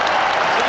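Football crowd at St James's Park, Newcastle, applauding in a dense, steady wash of clapping that fills the stadium, brief and continuous with no gaps.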